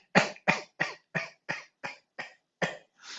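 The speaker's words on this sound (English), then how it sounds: "So you kind of almost cough." Nine short, clipped coughs push out a vocal tone during a breathing exercise, evenly paced about every third of a second, close and clear with silence between them.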